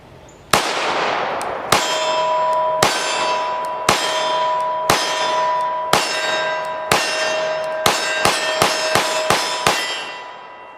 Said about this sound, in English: We're going to shoot some of the Fiocchi 124 grain jacketed hollow points, and these are the XTP rounds, just to see how it functions.